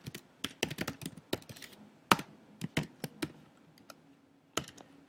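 Close computer keyboard typing in irregular bursts of crisp key clicks with short pauses, louder single strikes standing out, and no voice over it.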